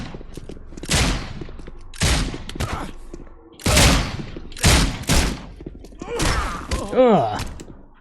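Gunfire from the video game The Sinking City, several loud separate bursts of shots spaced a second or so apart, followed by a rising whine and groaning sounds near the end.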